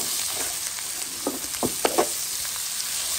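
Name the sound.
tomato-less shrimp and greens stew sizzling in a pot after salt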